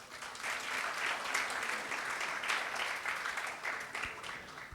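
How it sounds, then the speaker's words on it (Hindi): An audience at a climate action summit's inaugural session applauds steadily for several seconds, a dense wash of clapping that swells slightly and stays moderately distant, with no voices over it. "आप अपने लिए एक बार जोरदार तालियां बजाइए"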